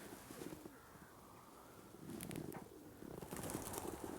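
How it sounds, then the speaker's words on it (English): Soft, low pigeon cooing repeats through a murmuring outdoor background, faint and somewhat distant, with a few brief higher chirps mixed in. "If you listen carefully, you can hear all the pigeons."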